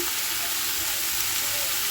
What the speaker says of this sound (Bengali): ব্রোকলি ফুলকপি পেঁয়াজ দিয়ে একটা ভাজা বড় করে একটা ভাজা করছি সেটাই বসিয়ে দিলাম